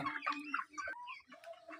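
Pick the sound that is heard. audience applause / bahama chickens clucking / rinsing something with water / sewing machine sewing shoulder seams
bahama chickens clucking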